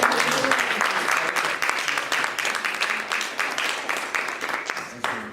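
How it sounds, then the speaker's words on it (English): An audience claps for a woman named Brenda, a dense round of applause that sounds steadily and tapers off gradually, with a voice briefly speaking over the end. "So let's give Brenda a round of applause."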